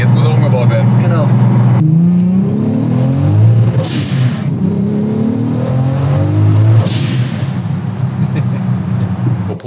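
A VW T5 double-cab van fitted with a 700 hp R32 turbo engine and 4Motion all-wheel drive on a test drive, its engine revving hard and climbing through gears with rising whines, loud and continuous from inside the vehicle.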